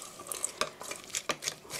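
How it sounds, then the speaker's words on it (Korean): Bell pepper, ground meat and vegetables stirred together in a pan for meat sauce, a series of close scraping and tossing strokes with light sizzling, rhythmic and fairly quiet, no voices. "고루 섞어주세요"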